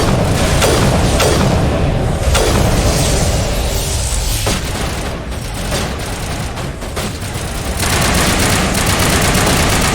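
Sustained gunfire in the video game Mass Effect, dense bursts and booming shots filling the scene loudly and continuously with only brief dips, no talk heard.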